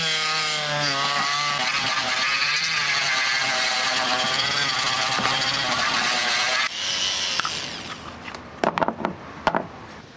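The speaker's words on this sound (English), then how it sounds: "that's the part you want to Dremel off" Dremel rotary tool grinding plastic off a Traxxas RC chassis, a close, high whining buzz that wavers in pitch for several seconds, then gives way to scraping and clattering handling noises.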